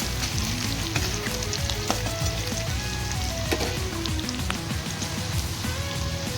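Onions browning in a pan for Assamese-style chicken curry give a loud, dense sizzle that runs unbroken throughout, studded with constant small crackles and pops.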